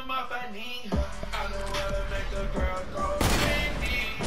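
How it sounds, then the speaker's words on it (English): Gunfire in the Fortnite video game, a few sharp shots and bursts amid game effects, heard at moderate volume. "I keep on shooting my gun on accident."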